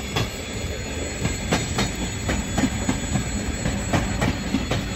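An electric commuter train passes a level crossing, its rail noise steady and fairly loud with repeated wheel clicks and squeal throughout; the horn is not clearly distinct.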